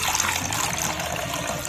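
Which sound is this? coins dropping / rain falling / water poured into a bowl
water poured into a bowl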